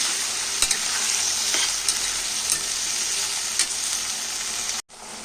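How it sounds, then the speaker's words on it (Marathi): Peas, chickpeas and vegetables sauté in hot oil with a loud, continuous sizzle, a spoon tapping and stirring now and then, and the sound cuts off abruptly near the end. "हे सर्व भाज्यांना परतून घ्यायचे आहेत तेलामध्ये"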